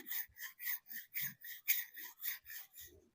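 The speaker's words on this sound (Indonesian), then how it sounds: "jadi sekelilingnya di amplas begini." Rhythmic, raspy back-and-forth scraping of sandpaper against a metal engine crankshaft, about a dozen even strokes in a steady rhythm, close by and with no talking.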